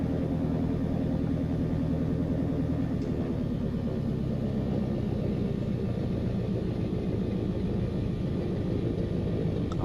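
Steady, loud droning of a Piper Arrow III (PA28R) piston engine in the X-Plane flight simulator, a constant throbbing hum that holds even throughout with no talk.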